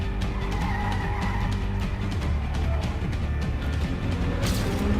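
Racing car in a mobile track racing video game drifting, a steady loud tire squeal and engine roar running the whole time without a break, with no talking.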